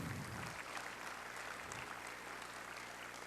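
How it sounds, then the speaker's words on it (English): An audience at a leadership conference applauds veterans, a dense, sustained wash of clapping that holds steady across the whole stretch, fairly distant and even. "let's give them a round of applause right now"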